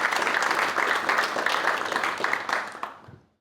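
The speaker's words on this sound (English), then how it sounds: "So, short round of applause for everyone." An audience at a green steel event gives a short round of applause, dense steady clapping that fills the room before tapering off and stopping near the end.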